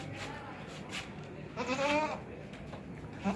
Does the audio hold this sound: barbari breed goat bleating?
yes